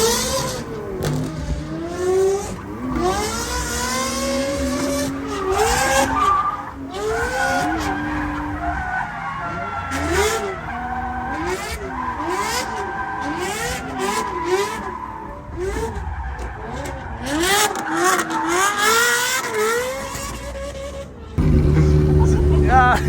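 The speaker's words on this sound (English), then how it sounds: "First 2 laps chasing a Ferrari 360" Race cars lap a track while chasing a Ferrari 360, engines rising and falling continuously through gear changes with tire squeal and skidding, under steady talk throughout.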